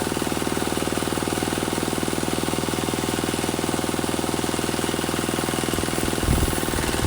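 Engine of a wood-slicing machine running hard, a loud, continuous pulsing chug with a fast, even knock, joined by a brief low thump near the end.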